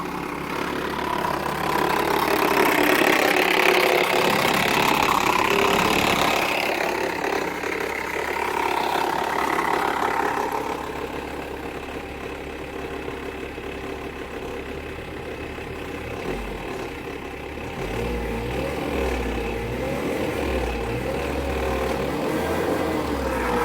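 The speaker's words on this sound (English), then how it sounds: "That's the fan hitting the fan shroud there. That's what you're hearing." A 1946 Chevrolet truck engine runs with its fan hitting the fan shroud, making a steady idling drone with a rhythmic rattling and scraping knock that grows more distinct in the later part.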